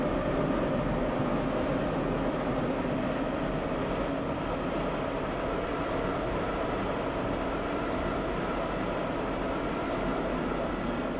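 In the Metro Simulator 2 video game, a Moscow Metro Line 6 Nomernoy-type train accelerates under steady power, giving a continuous, even rumble and whine that stays close and loud for the whole stretch.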